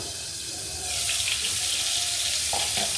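Stuffed bitter gourds hit hot oil in a pan, a steady hiss of frying that swells louder partway through and carries on alone without talk.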